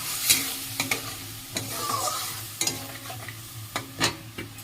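Egg curry with spices frying in oil in a pan, stirred repeatedly with a utensil that scrapes in short bursts over a steady close sizzle, with no talking.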